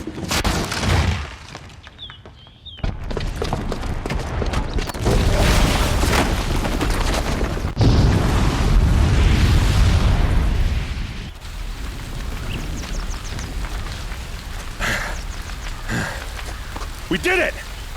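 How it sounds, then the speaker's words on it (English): A booby-trapped bomb detonating in Horizon Zero Dawn, a loud rumbling blast that rolls into a long sustained roar of debris and crackle before tapering into quieter aftermath. "the booby trap on the bomb downstairs is gonna get set off"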